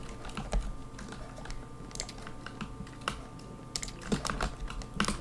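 Typing on a computer keyboard to send a chat message during an online game: quick, close clusters of key clicks in uneven bursts, with no talking.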